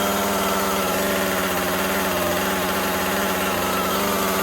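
Husqvarna 435 X-Torq chainsaw running at high idle with the throttle lock set, a steady, loud two-stroke buzz heard close and continuous with no voices.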